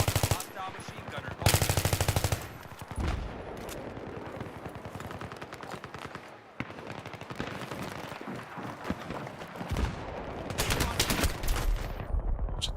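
Sustained machine gun fire from a Battlefield 3 PC match, long rapid bursts that are loud and close, with an even louder burst near the start and low background voice chatter.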